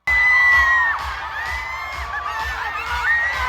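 Concert crowd at a New Kids on the Block Las Vegas residency cheers and shouts, recorded on a phone, a loud dense roar with high whoops over a thumping beat.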